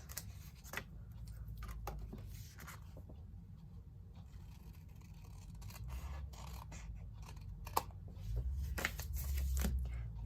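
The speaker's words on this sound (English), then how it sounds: "just snip around the flap of the envelope." Scissors snip around the flap of a paper envelope while an Easter card is made, producing quiet, close cutting and scraping sounds in short repeated strokes over a low background hum.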